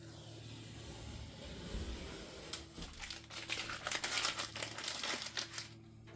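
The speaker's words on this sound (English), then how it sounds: "I'm going to go ahead and move the painter's tape" Painter's tape crackles and crinkles as it is peeled off a countertop during a multi-function sink repair, a close, quiet series of papery tearing rustles lasting several seconds.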